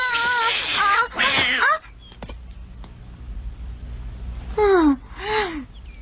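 A cat named Patty meows in a dubbed animated scene, two loud close cries at the start followed by a quiet gap, then two more wavering meows near the end.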